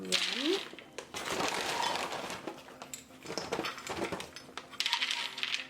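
Whole almonds poured into a container, a rapid patter of small hard nuts clattering and rattling against each other, fairly faint and close.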